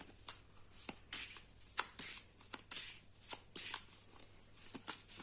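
Oracle cards being shuffled by hand, a quick run of crisp riffling bursts at an irregular rhythm, close and fairly quiet, with no talk over them.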